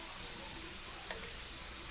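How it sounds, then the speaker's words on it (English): Homemade French fries sizzle in hot oil, a steady, close hiss with faint stirring and crackle throughout, and no voices. "and just listen to the sizzle."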